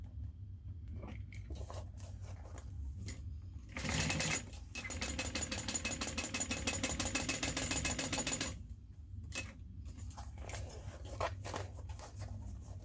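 A sewing machine stitches a seam on a bag, starting with a few slow separate clicks, then running in a fast, steady mechanical chatter for about five seconds before dropping back to scattered handling clicks, close and clear.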